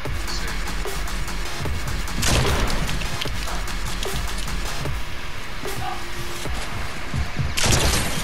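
Rapid gunfire crackles throughout in Fortnite, with sharp repeated shots and bursts layered over a busy, noisy game background.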